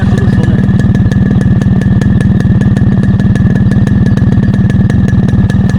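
A motorcycle engine runs close and loud with a steady, rapid thumping beat, holding an even idle throughout.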